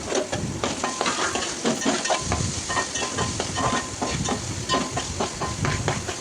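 Onion pieces fry in hot oil with ginger-garlic paste for mutton liver fry, a loud continuous sizzle and hiss up close, broken by repeated stirring scrapes and crackles.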